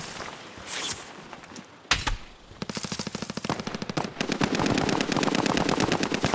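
Rapid automatic gunfire in a military shooter video game, long sustained bursts of machine-gun fire rattling close and loud, with a sharp single shot early on before the firing builds into continuous dense volleys.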